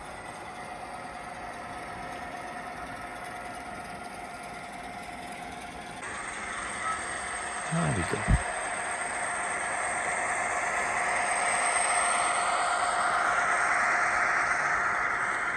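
A model railway Class 08 diesel locomotive sound, turned down low, builds and trundles past at a distance, steady and quiet, with a brief muttered remark partway through.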